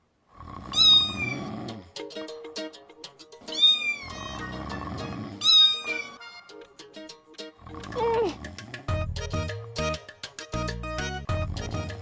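Human voice imitating a cat's meow in a cartoon scene, with several drawn-out rising and falling meows spaced a couple of seconds apart, loud and close, followed by music.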